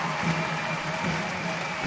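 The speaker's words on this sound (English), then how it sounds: "And the crowd applauds." Spectators at a fencing match applaud after a touch, a steady patter of clapping from the crowd at a team gold-medal bout between Germany and Hungary, with a faint voice underneath.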